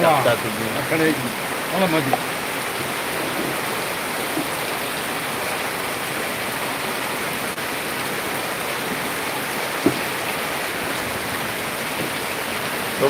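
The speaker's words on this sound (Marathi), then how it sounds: "शकता तुम्ही मुसळधार पाऊस चालू आहे मध्ये" Heavy torrential downpour at a riverside Shiva temple, a dense steady broadband rush that fills the whole scene, with faint voices and a brief thud near the start and midway.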